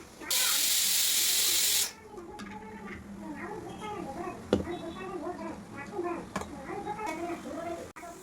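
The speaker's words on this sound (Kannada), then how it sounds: "ಇನ್ನು ಕುಕ್ಕರ್ ವಿಷಲ್ ಕೂಡ ಹೊಡಿತಾನೆ ಇದೆ ಅವಾಗಿಂದ" A kitchen pressure cooker lets out a loud, steady burst of hissing steam for about a second and a half, then cuts off, leaving quieter room noise with a voice talking.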